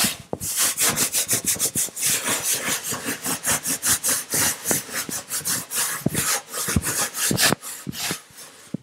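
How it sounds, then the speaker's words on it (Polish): A hemp cloth scrubs baking soda paste across an oven surface in quick, rhythmic rubbing strokes, close and steady, with no talking. "I teraz weźmy i rozprowadźmy tą sodę tutaj. Ok, musimy wyszorować porządnie."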